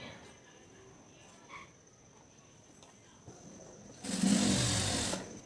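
A sewing machine stitches the joint of a blouse sleeve in one short, fairly loud whirring burst near the end, after a quiet stretch of faint background hiss.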